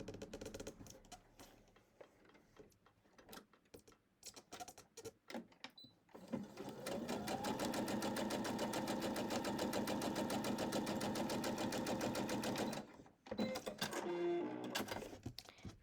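A sewing machine runs in a steady, fast stitching burst for about six seconds while quilted strips for sunflower coasters are sewn, preceded by scattered handling clicks and followed by a brief second run.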